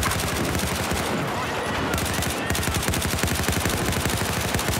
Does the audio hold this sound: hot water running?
no